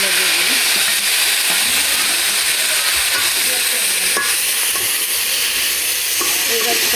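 Potatoes frying in a pan until browned, giving a loud, dense, continuous hiss of hot oil close by, with faint scraping stirs now and then and no talk.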